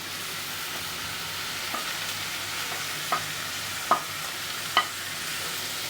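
Tomatoes frying in a pan with ginger-garlic paste, salt and chilli for an egg curry, a steady sizzle under a few spaced scrapes of the spoon against the pan.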